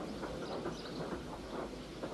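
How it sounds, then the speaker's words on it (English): A steam engine pushing a breakdown train along the rails, a steady chugging rumble with a rhythmic clatter of wheels, moderately loud and continuous with no talk. "Thomas pushed the breakdown train alongside."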